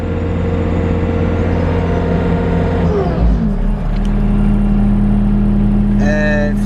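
A Bobcat T450 skid steer engine runs at full throttle with a steady, loud drone that shifts pitch partway through, heard up close with no speech over it.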